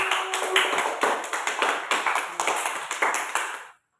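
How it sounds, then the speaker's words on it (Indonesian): A short round of applause from a small classroom group, steady overlapping claps that end abruptly after a few seconds. "kita beri tepuk tangan dulu untuk kelompok 1"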